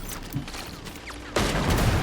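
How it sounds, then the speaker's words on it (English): Cannon fire in the video game Genshin Impact: a sudden loud blast with sustained rumbling barrage that bursts in partway through and keeps pounding to the end, following a quieter stretch of game ambience. "Ooh, cannon fire."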